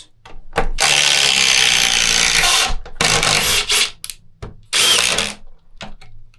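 A DeWalt XR cordless impact driver runs in loud bursts, several long high-pitched whirring runs with short pauses between them, close to the listener with no talk.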